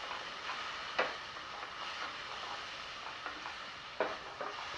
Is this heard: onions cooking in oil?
yes